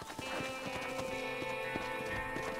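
Horse hooves clip-clopping in the Red Dead Redemption video game, a steady close rhythmic beat of hoof strikes over a faint tonal background hum, with no voices.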